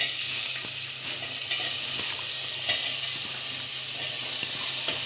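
Onions frying in a pan with cloves and bay leaf for egg masala curry, producing a loud, continuous hiss with faint intermittent clicks of stirring.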